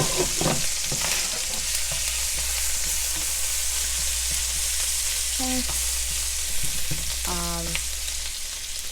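Pineapple being stirred in a frying pan alongside pork chops, giving a continuous steady sizzle with occasional utensil scrapes and clinks, close and even in level throughout, no talk.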